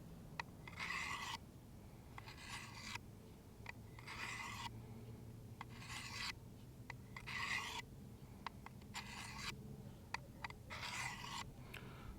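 Knife blade drawn across a Work Sharp guided field sharpener in repeated rasping strokes, a steady rhythm of short scraping passes heard close and fairly quiet.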